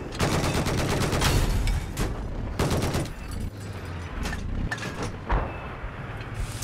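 Loud, dense gunfire and explosions from a tank battle in a Battlefield-style 10 vs 10 match on Siege of Shanghai, continuous rapid bursts and booms filling the whole stretch.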